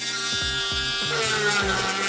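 A cheap small cordless electric drill bores holes into a plastic container, a whining motor buzz with repeated short strokes as the bit bites in, close and steady.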